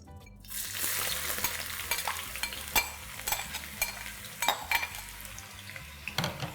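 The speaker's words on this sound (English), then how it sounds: "Once the oil heats up, let's add in sliced onions." Sliced onions dropped into hot oil for white chicken biryani, a busy close sizzle and crackle with frequent sharp spatters and scraping stirs of a spoon, loud and continuous with no talk.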